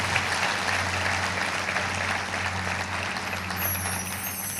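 A seated audience at a Hindu religious discourse (katha) claps steadily for several seconds, a dense even patter of many hands over a low electrical hum from the hall's sound system.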